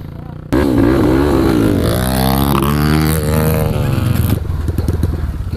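Motocross motorcycle on a private dirt track at a junior event revs up loudly, its engine roaring up and down in pitch with a rough, buzzing tone that holds close and strong throughout.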